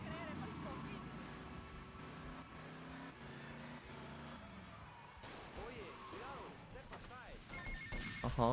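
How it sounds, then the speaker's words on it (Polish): A phone rings in Grand Theft Auto Vice City over steady engine and traffic noise from the game, with a voice briefly audible alongside the electronic ringing. "masz telefonik"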